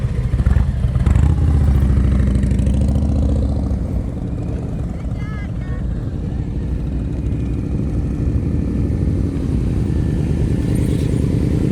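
A motorcycle on a slow-speed riding practice course, its engine thrumming steadily at low speed for the whole stretch, close and continuous, with no one talking.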